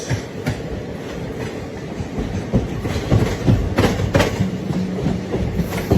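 The Tirupati–Kakinada Express, hauled by a WAP-4 electric locomotive with ICF coaches, rolls past close by in a loud, continuous rumble with repeated wheel clatter and knocks.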